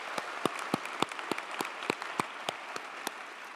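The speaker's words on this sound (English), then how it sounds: "Please may I again request you all to give him a round of applause too." Applause from the audience at a UC Berkeley School of Information commencement, distinct, fairly sparse sharp claps ringing out over a faint hall background, moderately quiet and steady throughout.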